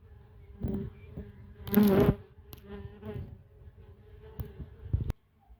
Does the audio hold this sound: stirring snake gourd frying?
no